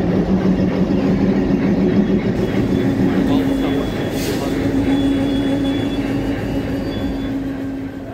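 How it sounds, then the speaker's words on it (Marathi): A Konkan Railway train hauled by a 3100 horsepower WDG3A diesel locomotive from the Ernakulam shed departs Ratnagiri station, with a loud, steady low engine drone and a sustained tonal hum that fades slightly toward the end. "आता आपल्या ट्रेनचं रत्नागिरी स्टेशनवरून डिपार्चर होत आहे."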